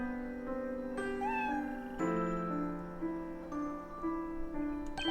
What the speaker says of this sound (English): Oh, that's a fine-looking cat.